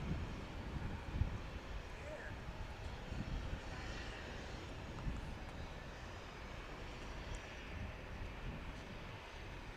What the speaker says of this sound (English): There's a Southwest plane here.